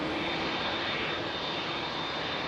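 An Airbus A350 jet departing Heathrow produces a loud, steady engine roar that fills the whole short stretch without a break.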